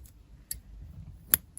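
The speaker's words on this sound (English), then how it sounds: "cut your yarn" Scissors snip crochet yarn near a work surface, a few short sharp clicks spread over a quiet moment, with no voice.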